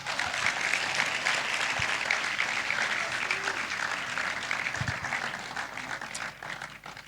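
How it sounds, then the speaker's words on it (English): A church congregation claps through a sermon, a dense, sustained patter of many hands that stays steady and fairly loud, then thins slightly toward the end. "Clap if you're not angry."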